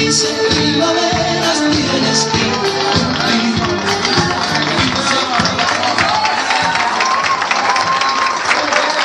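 A crowd at a quinceañera celebration bursts into sustained applause, loud, dense clapping that carries on steadily throughout, mixed with cheers and a music bed underneath.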